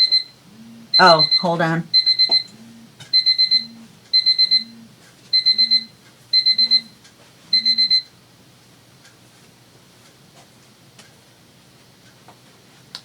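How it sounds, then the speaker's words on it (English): A kitchen timer alarm sounds in bright repeated beep bursts, about seven rhythmic pulses close by, then stops; a voice speaks briefly over the first beeps. "That was my timer telling me it's time to take my medicine."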